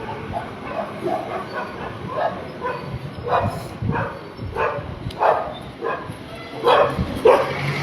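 A dog barks repeatedly in short, moderately loud yaps at an irregular pace over a noisy outdoor background, the barks spaced a second or so apart and rising in strength toward the end.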